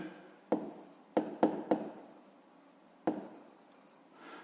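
Pen writing on paper in a quiet room, heard as several short scratchy strokes in separate bursts with pauses between, close and fairly soft, with no talking over it.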